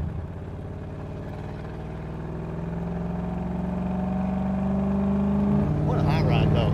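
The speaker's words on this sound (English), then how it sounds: "Well, you pop that clutch and it pushes us back each time." A 1951 Allard K-2 hot rod with a Mercury flathead engine accelerates, the close engine note climbing steadily in pitch and loudness, with a brief shift near the end and people talking over it.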